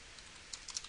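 A few quiet keyboard keystrokes, soft isolated clicks clustered near the end of a brief, otherwise hushed moment.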